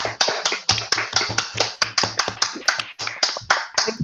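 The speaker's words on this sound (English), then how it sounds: "Good to hear the clapping" Participants at an online community event, unmuted on a video call, clap together in a rapid stream of sharp, close claps with slightly uneven rhythm, loud and with no talk over them.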